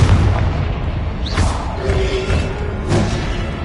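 A Confringo blasting spell from Hogwarts Legacy explodes with a loud, close boom and a rushing whoosh, followed by heavy rumbling impacts.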